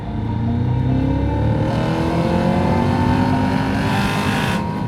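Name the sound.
2022 Cadillac CT5-V Blackwing engine revving in second gear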